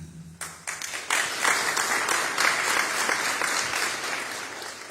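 A gathered audience claps in dense, sustained applause at an outdoor community event. Many hands beat together evenly and loudly for several seconds.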